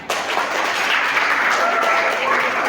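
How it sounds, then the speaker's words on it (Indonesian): An audience at a Catholic primary school graduation ceremony applauds the graduating students with a dense, steady wash of clapping that fills the whole moment, loud and close. "tepuk tangan dulu untuk mereka"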